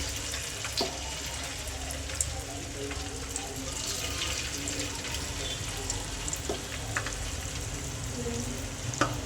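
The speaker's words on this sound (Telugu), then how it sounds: "ఇలా వేసి వేయించుకుంటే చికెన్ పకోడీ టేస్టీగా రెడీ." Chicken pakoda frying in oil, a continuous soft bubbling sizzle with occasional sharp pops and utensil clinks, fairly quiet and close, without talk.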